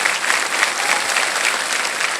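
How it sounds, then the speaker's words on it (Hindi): Studio audience clapping loudly and evenly on a televised quiz show set, a dense continuous burst of applause with no voices over it. "ताली बज जाए इनके लिए"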